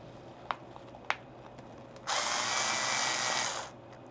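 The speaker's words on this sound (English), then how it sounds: "The drill is drilling" A power drill bores a small hole through a rear bike light, giving one steady high whine for about a second and a half. Before it, a few sharp clicks and taps sound close by, and there is no talking.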